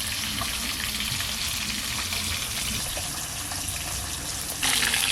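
Tilapia pieces fry in hot oil with a steady, close, dense sizzle that fills the whole stretch and swells slightly louder at the end.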